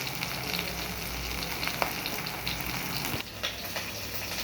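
Fish fries in a pan, giving a steady, close crackling sizzle with small spits and pops that runs unbroken throughout.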